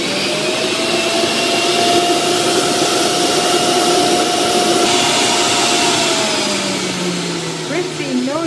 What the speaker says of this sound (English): It does say that you're meant to wait for the motor to get to full speed before you start putting the fruit in.